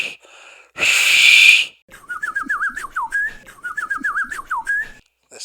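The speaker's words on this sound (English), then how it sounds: "This is Northside Whistle." A person whistles a signature call, the Northside Whistle: a warbling, sliding phrase repeated twice, close and clear, after a short burst of breathy noise.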